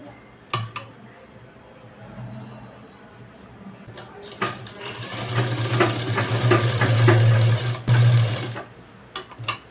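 A sewing machine stitches the lining into a blouse, running in bursts that build into a loud, steady whir near the end, with short stops and light clicks between runs.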